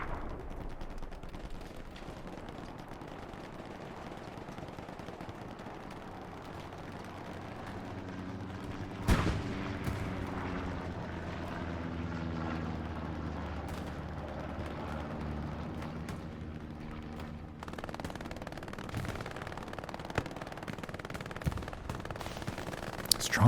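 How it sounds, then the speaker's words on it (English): Sustained suppressive gunfire in the World War II shooter game Hell Let Loose, with distant machine-gun bursts and rumbling impacts building into a dense, continuous barrage, heard without voices. "Flanking suppressive fire coming in from Bain from the gardens area over here on the left-hand side."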